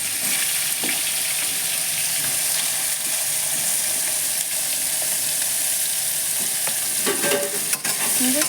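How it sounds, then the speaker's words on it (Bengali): Cut eggplant pieces fry in hot oil in a home kitchen, giving a steady, loud, close sizzle throughout, with occasional stirring clatter near the end. "এখন কেটে ধুয়ে রাখা বেগুনগুলো ভেজে নেব।"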